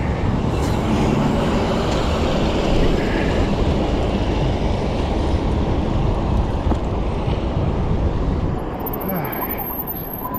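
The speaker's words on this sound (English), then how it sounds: "Traffic, just a bus." A bus rumbles past in busy Paris street traffic, a loud, steady broadband roar with engine and road noise that eases slightly near the end.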